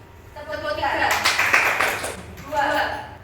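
A classroom group claps in a counted pattern, a brief cluster of claps mixed with voices and a teacher's spoken cues.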